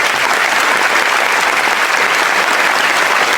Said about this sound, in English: I request you to appreciate our children with a big round of applause